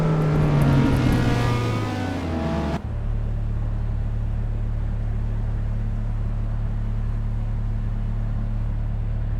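Car engine in the Assetto Corsa Evo racing game revving high and then dropping abruptly to a steady lower drone as the car shifts and cruises, loud and close with no talking.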